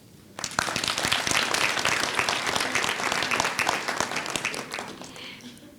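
Graduates and university staff applauding guests at a spring graduation ceremony, a full, sustained round of clapping from a large crowd that starts abruptly and carries on for several seconds.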